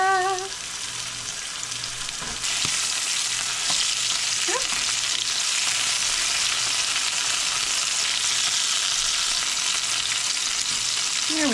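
Food browns in a hot pan on a stovetop with a steady, dense sizzle that grows louder partway through, with a few faint clinks of a utensil.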